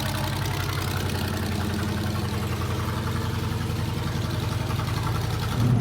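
A monster truck engine idling after sitting unused for a year, a steady low rumbling drone with even rhythmic pulsing, close and continuous, revving slightly at the end.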